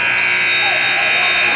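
A basketball buzzer sounds at the end of the first half of a women's college game, a steady, loud electronic tone held for the whole moment over the noise of the arena.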